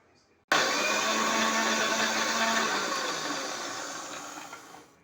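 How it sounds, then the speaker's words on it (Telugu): A mixie blender grinding bananas switches on abruptly after a brief quiet moment, whirring loudly and steadily, then gradually easing in pitch and level before stopping near the end. "ఇప్పుడు మనం మిక్సీ పట్టుకుందాం"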